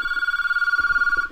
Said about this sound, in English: let's take a listen to how the ringing sounds right now on this phone connected to this port.